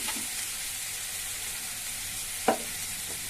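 Carrot fries in a pan with a constant soft sizzle, broken once by a single sharp clink of stirring midway.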